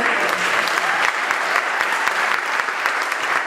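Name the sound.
audience applause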